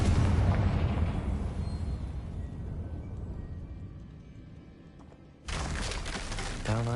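Confringo fire spell explosion in the video game Hogwarts Legacy, a loud booming blast that rumbles and fades over several seconds, followed by a sudden burst of crackling noise.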